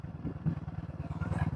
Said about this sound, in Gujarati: એ પણ મોટરસાયકલ લઈને આવે.